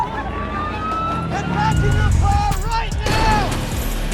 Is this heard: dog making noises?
no